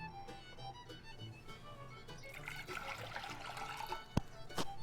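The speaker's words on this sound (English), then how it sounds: "we're gonna put our water in here to boil" Water pours steadily into a cooking pot on the stove for boiling rice, a faint continuous splashing trickle that grows fuller toward the end, with a couple of sharp knocks near the finish.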